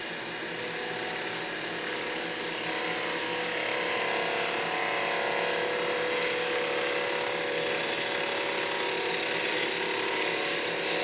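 A skew chisel cuts wood spinning on a lathe, a steady high rattling chatter of the tool against the workpiece continuing throughout at moderate level.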